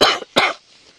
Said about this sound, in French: je sens que ça gratte, ça y est, je tousse